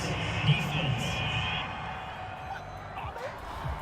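Home crowd in a Madden NFL 22 Broncos versus Giants football game cheering a penalty flag, a broad roar that swells early and then settles, with commentators talking over it.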